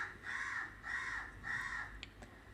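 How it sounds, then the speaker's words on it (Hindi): A crow caws outside in three long, evenly spaced calls, fairly close and clear, followed by a couple of short faint chirps. "मैं कौवा भी बर्ड ही है लेकिन आज कौवे का आवाज़ आ रहा है बाहर से"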